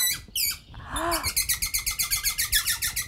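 A toy instrument imitating little birds gives rapid, rhythmic chirping trills, a quick series of bright repeated tweets preceded by a few sliding whistles.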